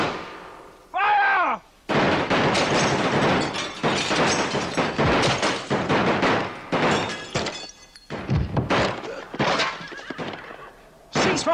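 Gunfire in an Afrikaans feature film breaks out as a dense, continuous barrage of loud shots and crashes, preceded by a brief horse whinny, with no speech heard.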